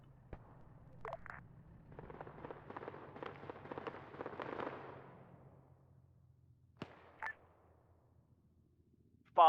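Distant gunfire crackles during a military field training exercise, a scattered run of faint sharp pops and cracks heard far off, with a few isolated shots before and after the main burst.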